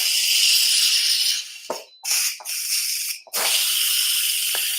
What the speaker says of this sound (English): You can probably hear it. Steam coming out.